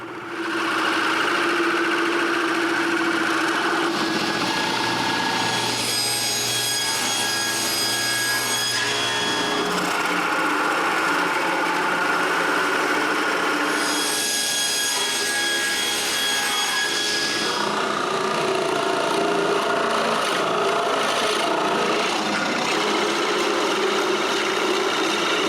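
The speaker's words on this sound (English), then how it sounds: "While I drill the holes, Peter continues to cut some plywood." Continuous loud workshop machinery: a power drill whines boring holes while a saw cuts through plywood, with rattling and grinding throughout.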